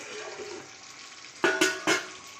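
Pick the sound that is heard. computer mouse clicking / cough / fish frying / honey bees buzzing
fish frying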